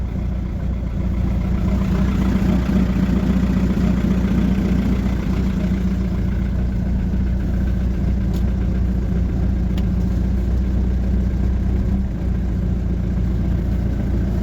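A car's diesel engine with a faulty glow plug runs at a steady, low, rumbling idle, close and continuous throughout, with no talking.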